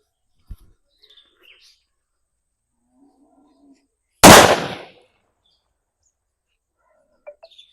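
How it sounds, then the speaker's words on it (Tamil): A single sharp, loud bang of a three-inch gold Valangaiman country firecracker in near silence, its blast trailing off over about half a second, with faint bird chirps and small clicks around it. "ஃபஸ்ட்டு மூணு இன்ச்சு கோல்டு வெடி வெடிச்சு பார்ப்போம்"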